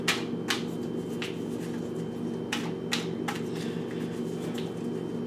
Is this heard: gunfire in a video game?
no